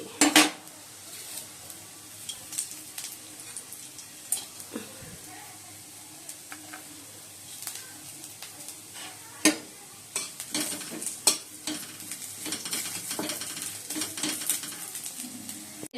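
Spices are tempered in hot oil in a home kitchen pan, a faint sizzle under frequent sharp clinks and scrapes of a utensil stirring against the metal.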